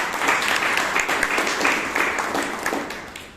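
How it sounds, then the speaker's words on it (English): An audience at a Toastmasters club meeting in Bangalore applauds for about three seconds, a dense, steady wash of clapping that fades slightly toward the end. "please give her a big round of applause."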